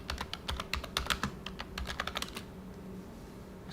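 Quick, uneven keystrokes clatter on a computer keyboard for about two and a half seconds, close and crisp, then stop, leaving quiet room tone.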